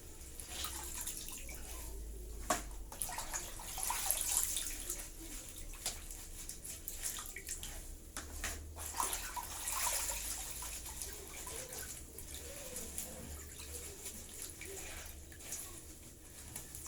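Soaked ketapang leaves draining, a steady wash of trickling and dripping water running throughout with a few brief louder splashes, fairly close and without talk.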